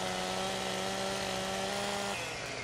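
A chainsaw runs in Farming Simulator 17 with a steady, loud buzzing drone that drops off near the end, with no talking over it.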